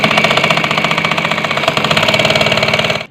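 Sewing machine stitching the closing seam of a shalwar: a loud, fast, steady mechanical whir with an even stitching rhythm that runs continuously and then stops abruptly.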